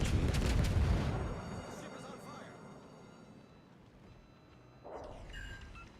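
Naval gunfire in World of Warships: Legends, with a loud boom and broad rumble opening, fading to a low background, then a second blast later on.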